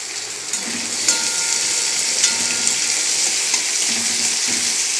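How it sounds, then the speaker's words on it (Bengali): Small-chopped onion frying in a pan, with a steady close sizzle and a few light stirring clinks and scrapes, fairly loud and with no voices. "পেঁয়াজটা একটু লাল লাল করে ভেজে নিই"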